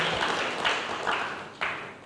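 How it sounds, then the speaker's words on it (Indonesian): A church congregation applauds during a sermon on prayer, a broad wash of steady clapping with a few sharper bursts, moderately loud and continuing without talk. "Berikan tepuk tangan ya, berikan buat Tuhan"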